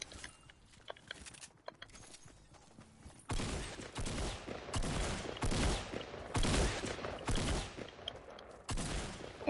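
Gunfire in the Fortnite video game: quiet scattered shots at first, then a dense run of loud, rapid bursts in the second half, with no talking over it.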